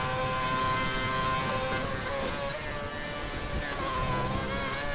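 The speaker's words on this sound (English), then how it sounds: "Bit of a high on the revs there." A Formula 1 car in the video game F1 2011, racing in Montreal, holds a high, buzzing engine whine with steady harmonic tones under constant road noise, loud and unbroken.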